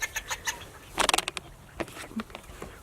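Chickens and turkeys cluck in a barn: soft, scattered clucks and brief bursts of rapid chatter, with a quick flurry in the middle, fairly faint against a quiet background.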